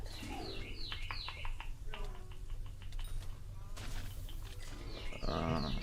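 Birds chirping outside an open window, repeated bright tweets and short calls scattered through the clip, moderately near, with faint background noise and some voice-like sounds underneath.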